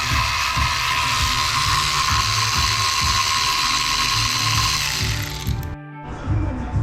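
Hand tools clatter rapidly with ratchet-like clicking while an engine's cylinder head is taken off, a constant steady hum running underneath until it drops away near the end.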